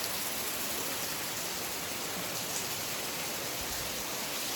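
Heavy early-morning rain pours steadily as a dense, even hiss that is close and constant throughout, with no voices.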